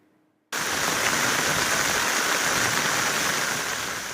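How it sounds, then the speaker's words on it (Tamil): Rain pouring down across Tamil Nadu in Ranipet, bursting in suddenly after a near-silent moment and then holding as a dense, steady, loud hiss with no voices. "பல்வேறு பகுதிகளிலும் மழை பெய்தது"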